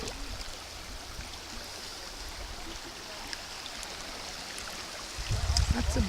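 River water streams steadily around a kayak on the Muskegon River, a close, even rushing wash with a few soft bumps and a louder low thump near the end.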